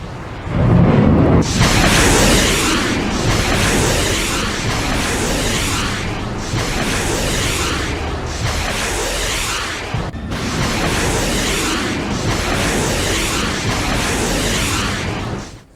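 Iranian missiles launch and explode in a string of loud, roaring blasts, one after another at roughly regular intervals, each a broad rushing boom that swells and fades before the next.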